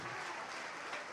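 A church congregation applauds, a faint, dense wash of clapping from many hands, brief and steady.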